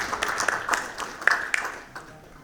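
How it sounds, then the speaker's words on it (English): A modest audience at a corporate panel event claps in a scattered burst, individual hand claps distinct and fading toward the end. "can we have a huge round of applause"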